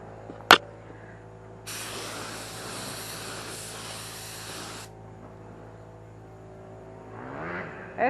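Spray gun painting the rear quarter panel of a Saturn car, with a sharp click, then a steady, close hiss of spray lasting about three seconds, and a quieter hum and handling noise before and after.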